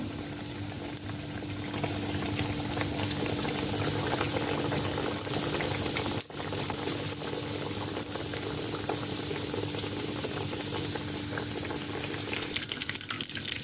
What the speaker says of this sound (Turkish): Tavamızda 2 su bardağı sıvı yağı kızdırıyorum ve kızgın yağ içerisine böreklerimi bırakıyorum.